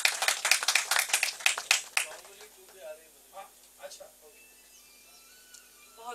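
At a film music launch event, an audience claps for a singer in a short, crisp burst of clapping at close range that stops after about two seconds, followed by quiet speech.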